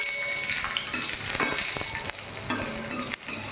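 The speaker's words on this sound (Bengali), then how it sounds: "সবগুলো ভাজবো না, কিছুটা পরিমাণ কাজু কিশমিশ ভেজে তুলে রাখবো" Cashews and raisins fry in a pan for jaggery kheer, giving a close, steady sizzle and bubbling crackle that stays fairly even throughout.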